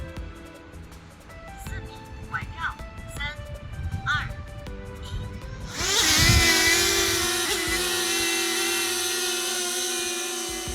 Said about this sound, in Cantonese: 咁佢而家就飛出去半徑4米，然後就環繞我，環繞一圈。